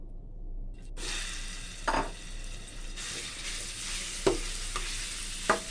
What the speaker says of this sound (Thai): รวนหมูไว้ในกระทะที่มีน้ำมันกระเทียมเลยจะได้หอมหอม